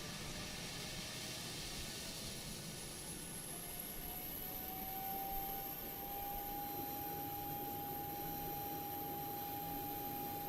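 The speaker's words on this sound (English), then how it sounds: "Alright, APU is live" Boeing 737-800 auxiliary power unit spooling up in a flight simulator, a steady airy roar with a thin whine rising in pitch and settling into a constant tone, no voices over it.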